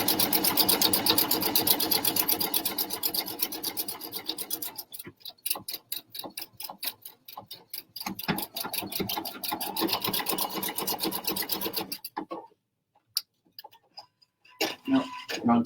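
A PFAFF sewing machine stitches a buttonhole, its rapid needle ticking in a dense mechanical rattle that pauses, changes pace and drops out near the end, close and loud with no talking over it.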